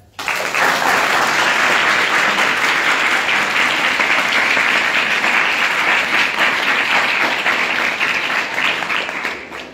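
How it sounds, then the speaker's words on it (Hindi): Sustained, loud applause from a large audience at a school ceremony in Sarnath, welcoming a guest; dense steady clapping fills nearly ten seconds with no speech over it. "मैं चाहूंगा कि उनका स्वागत तालियों से किया जाए"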